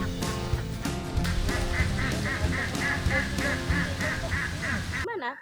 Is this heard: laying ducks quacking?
yes